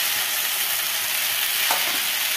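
Spices with a pinch of turmeric and grated radish fry in a pan while being stirred, giving a steady, even sizzling hiss throughout with a faint scrape near the end and no talking.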